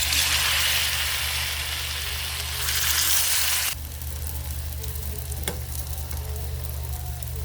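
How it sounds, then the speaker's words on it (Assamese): Stuffed bitter gourd (vat kerela) fries in hot oil, a loud continuous sizzle that drops to a softer, steady crackle partway through, with a brief scrape of a utensil, and no talking. "আৰু মোৰ এইকেইটা ভাজা হৈ গৈছে, মই এতিয়া নমাই ল'ম।"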